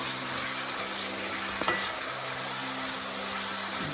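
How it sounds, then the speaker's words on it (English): Steady, loud sizzling of aubergine frying in hot oil, a continuous crackling hiss with a brief clatter partway through. "Just listen to this sizzle."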